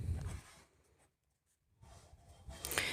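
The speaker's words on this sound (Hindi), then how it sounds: "अब कुछ इस प्रकार से हम यहाँ पर लिखेंगे" Pen writing numbers on paper for a prime factorization math lesson: close, soft scratchy strokes, a brief pause, then more scribbling that ends in a sharper stroke.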